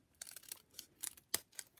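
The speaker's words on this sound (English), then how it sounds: "And I'm going to use my sticky scissors" Small sticky scissors snip foam dimensional adhesive pieces in half during a paper craft project, giving a few quiet, close crisp cuts and rustles at irregular intervals.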